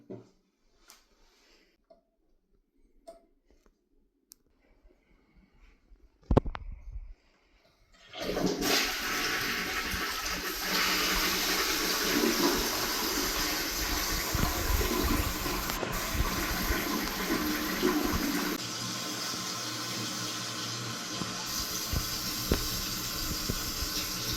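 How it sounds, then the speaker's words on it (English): A few faint clicks and a brief clunk, then a toilet with newly replaced tank parts flushes loudly with rushing, hissing water that keeps running steadily as the tank refills. "Seems like a lot of water flushing."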